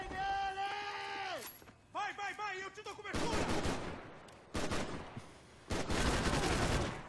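Gunfire in the shooter game Max Payne 3 rings out as three long, loud volleys of shots, each lasting about a second or more. Tonal, voice-like sounds come before them.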